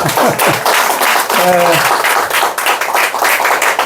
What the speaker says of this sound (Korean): 일단 박수 치셔야 돼요.